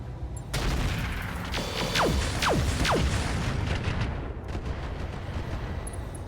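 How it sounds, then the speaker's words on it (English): Heavy mech weapons fire in the RogueTech battle game: a dense salvo of booming shots and rumbling blasts with several descending whistling streaks, loud and continuous with no talk. "we're actually going to fire on this Misery with everything we've got"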